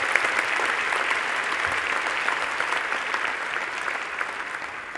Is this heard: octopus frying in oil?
no